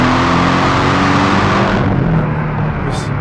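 A 2018 Porsche 718 Cayman GTS with a turbocharged four-cylinder engine, a loud, close, rumbling exhaust drone that holds steady before easing off near the end.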